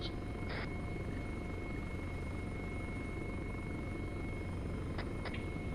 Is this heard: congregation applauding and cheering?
no